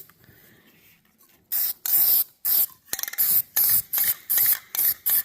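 An aerosol can sprays rust-protection coating in a series of short, loud hissing bursts with brief pauses between them, close by, aimed down under the hood of a Jeep YJ.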